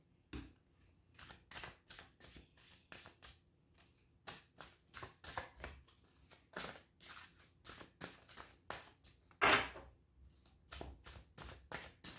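Tarot cards are gathered and shuffled in a quiet room, a quick series of soft, close riffling taps and card slaps in uneven bursts, with one louder snap near the end.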